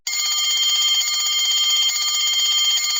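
An electric bell rings loudly and continuously, a steady metallic trill that holds without pause for about three seconds, heard in a bell jar demonstration.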